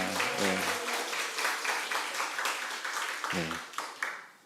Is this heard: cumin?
no